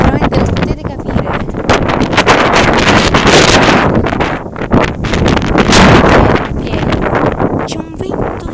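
Loud, blustery wind buffets the microphone in heavy continuous roaring gusts, with faint voices partly buried underneath.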